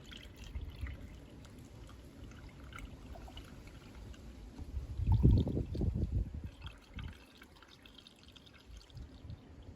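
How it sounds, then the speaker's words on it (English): Water poured from a jug through a funnel, a quiet trickle that swells into a brief fuller gurgling pour midway, then thins out again over low background noise. "grabbing the funnel and some water in the jug I prepared first, and putting the funnel in and pouring a little bit of water"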